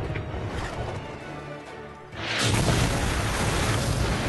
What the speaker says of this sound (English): We've been splattered by their artillery!